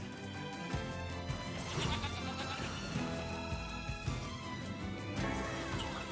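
Sheep bleat repeatedly over a dense, loud layer of game music and effects in NieR Replicant, the calls recurring throughout.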